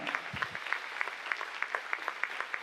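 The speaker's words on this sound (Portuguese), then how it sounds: "Pode aplaudir bem forte, gente" Steady applause from a church congregation at a praise and worship service, many hands clapping in a dense, even patter with small rhythmic accents, moderately loud and without speech over it.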